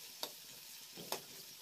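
Onions fry quietly in oil in a wok under a faint sizzle. A spatula scrapes against the pan twice, briefly.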